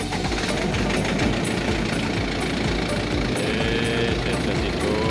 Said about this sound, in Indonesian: Genset hidup.